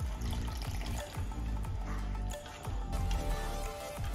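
Water is poured into a pan of paneer butter masala, a close, splashing, gurgling pour that runs steadily with slight surges and dips.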